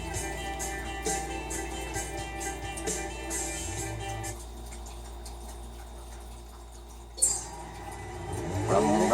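A rotary-engine car fitted with a ball bearing turbo revs in the Forza racing game; the engine drones and surges, drops to a quieter idle, then blips sharply and climbs again at the end.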